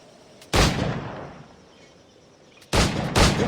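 Flintlock pistol shots in the video game Assassin's Creed IV Black Flag, one booming report with a long fading tail, then two more heavy blasts close together near the end.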